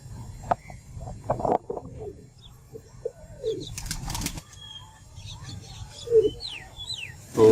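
A golden Lagin pigeon is heard up close: low coos, short bursts of wing flapping and scuffling, and a few sharper calls, all in uneven bursts with a voice speaking briefly at times.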